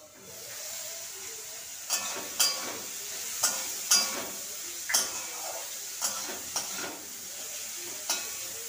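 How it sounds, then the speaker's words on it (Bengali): Bitter gourd (uchhe) sizzles in a frying pan with a soft steady hiss, broken every second or so by sharper bursts of spatter as the pieces are stirred and turned, heard up close with no talking. "এখানে উচ্ছে ভাজা হচ্ছে"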